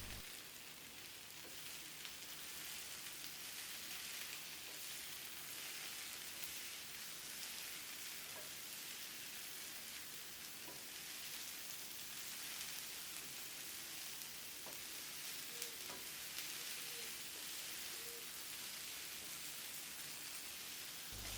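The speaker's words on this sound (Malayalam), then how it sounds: "അതും കൂടെ ഇട്ട് നല്ലതുപോലെ ഒന്ന് ഫ്രൈ ചെയ്യണം." Beef sizzles on a hot tawa with onion and green chilli, Kerala-style tawa fry, a steady, even hiss of frying that holds throughout at low level with no voices.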